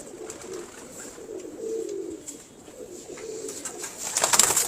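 A red zeera pigeon coos softly in low, rolling phrases that repeat several times, fairly close, over a faint background hiss.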